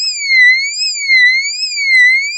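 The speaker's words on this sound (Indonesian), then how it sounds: "Oh, bunyi alarm, mana sumbernya?" A battery-powered alarm device set among banana plants in a garden to scare off monkeys wails in a repeating up-and-down siren tone, loud, clear and steady, with no other sounds.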